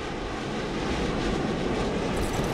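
Airplane engine in Saints Row The Third: a steady, loud, broad roar that holds constant throughout, close and continuous, with no voices over it.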